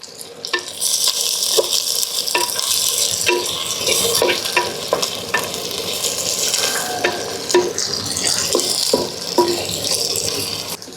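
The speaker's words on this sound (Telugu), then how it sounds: "ఇప్పుడు ఇవన్నీ అయితే మనం మెత్తగా వేపుకోవాలి." Onions and curry leaves sauté in a pan with a continuous close sizzle. Frequent scraping and clinking strokes of a spoon stirring against the metal run throughout, with no talking.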